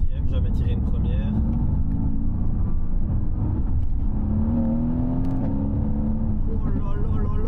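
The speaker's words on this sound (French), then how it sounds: "Oh, l'échappement." A Mercedes-AMG GT with a 467-horsepower V8 accelerates hard in second gear, its engine and exhaust roaring with rising harmonic tones and a steady loud rumble beneath excited talk from the driver.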